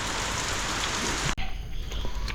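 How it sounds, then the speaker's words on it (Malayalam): Heavy rain falling outdoors, a loud dense steady hiss that drops away abruptly partway through, leaving quieter rain and faint ambient sound. "മഴ എങ്ങാനും മാറാവോ?"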